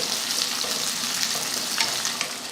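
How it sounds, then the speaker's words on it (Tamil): Sliced small shallots sautéing in oil with fennel and curry leaves for a Tamil kudal (intestine) fry, giving a continuous close, crackling sizzle with a few light stirring clicks and no talking. "ஒரு நூற்றம்பது கிராம் அளவுக்கு சின்ன வெங்காயத்தை கொஞ்சம் பெரிய சைஸாக வெட்டி சேர்த்துருக்கேன் இதை வதக்கிடுவோம்"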